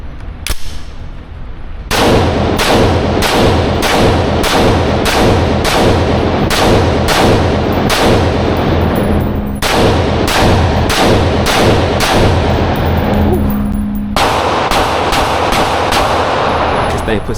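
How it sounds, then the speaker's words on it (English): A rifle fed from a 60-round magazine fires loud, sharp shots in a steady, rapid cadence, long strings of evenly spaced cracks with brief breaks between volleys, very close and dominant. "I'm gonna shoot like a couple of them, then go back to the Glock and switch back."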